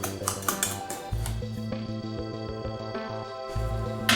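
A utensil clinks and scrapes against a bowl while breading and milk batter are mixed, in quick rhythmic taps and rattling strokes, close and fairly bright.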